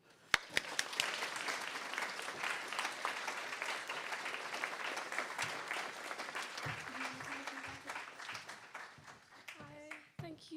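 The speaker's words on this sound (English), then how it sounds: "please give a huge round of applause for Nina" Audience applause at a youth awards ceremony fills the room with dense, sustained clapping, a few sharp claps standing out at the start, before a voice begins talking near the end as the clapping thins.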